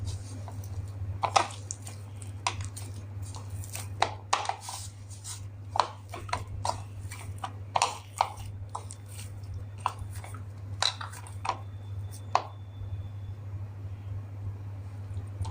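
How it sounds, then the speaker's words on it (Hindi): Semolina dough is kneaded by hand with a little water for pani puri, giving soft, irregular squishing and slapping sounds over a steady low electrical hum, with no voices. "तो हल्का सा पानी डालकर इस तरह से अच्छे से गूंद लेते हैं, या अच्छे से नीट कर लेते हैं।"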